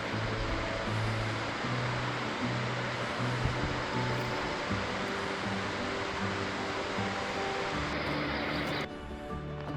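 Waterfall along the Idaho Centennial Trail, a steady, dense roar of rushing water close by, continuous and loud with no voices over it, easing slightly near the end.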